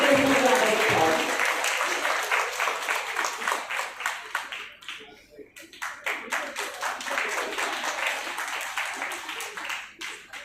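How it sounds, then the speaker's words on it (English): Applause from an audience at a national moot court competition, starting under a speaking voice, thinning to scattered individual claps midway, then swelling back into steady clapping before easing off. "Audience, please appreciate all the participants with a huge round of applause."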